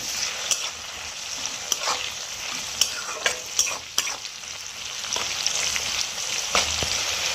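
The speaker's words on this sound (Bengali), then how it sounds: "ক্যাপসিকামের মধ্যে আমি হাফ চামচ লবণ দিয়ে দেবো যাতে তাড়াতাড়ি ভাজা হয়ে যায়" Capsicum salted with half a spoon of salt fries in a pan for chilli soybean, a bright steady sizzle broken by sharp scraping strokes of a spatula stirring it, close and fairly loud.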